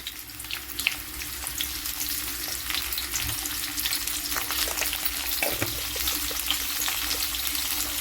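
Raw green mango pieces frying in hot mustard oil with mustard seeds, a steady dense sizzle with occasional stirring scrapes, close and continuous with no voices.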